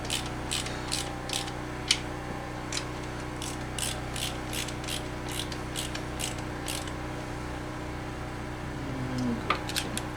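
A hand ratchet clicks in quick, even bursts while snugging the valve cover bolts on a Honda B18 engine. The sharp pawl ticks sit close over a low steady background hum, then stop for a quiet stretch near the end.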